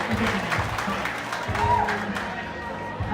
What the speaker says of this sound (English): That's the applause part.